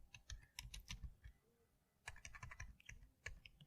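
Keys clatter on a computer keyboard while code is written, coming in quick bursts of clicks with short pauses between them, close and fairly quiet.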